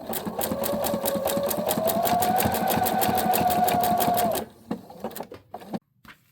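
Sewing machine stitching fabric for a ghost garland, a fast, steady mechanical chatter running for about four seconds before stopping, followed by a few soft handling clicks and taps.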